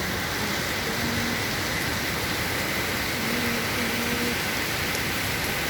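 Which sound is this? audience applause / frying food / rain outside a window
rain outside a window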